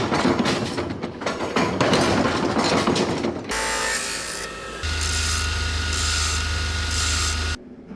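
A homemade tool works a cap loose on the end of a StuG III G tank gun mount, giving scraping, ratcheting metal clicks that then shift to a steady grinding drone and a low hum, with no talking.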